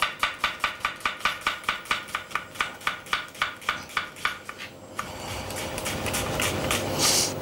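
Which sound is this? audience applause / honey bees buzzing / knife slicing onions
knife slicing onions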